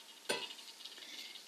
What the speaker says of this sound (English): And I hear that sizzle,